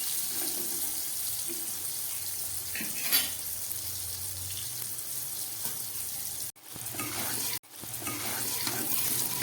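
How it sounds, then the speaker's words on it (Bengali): Eggplant fries in a pan with a steady, even sizzle running throughout, broken by two brief near-silent gaps, with faint clinks and stirring sounds over the constant crackle. "বেগুনটাকে আমি একটু ভালো করে ভেজে নেব।"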